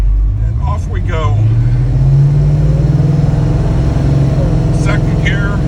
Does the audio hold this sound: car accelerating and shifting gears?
yes